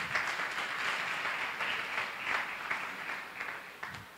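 A church congregation at a Sunday service claps hands steadily for several seconds, a dense, continuous patter of applause with no talking.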